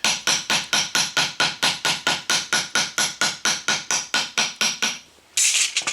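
A toothed mason's tool scrapes across stone in about twenty even, loud strokes at close range, each one a harsh rasp that fades before the next. The rhythm breaks briefly near the end before a final scrape.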